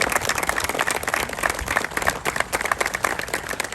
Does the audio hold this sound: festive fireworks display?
no